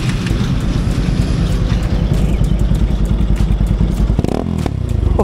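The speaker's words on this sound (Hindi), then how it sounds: "मेरे बोलने से ज़्यादा ये बाइक चीखती है।" A motorcycle engine roars loudly and steadily up close, with a brief throttle surge near the end.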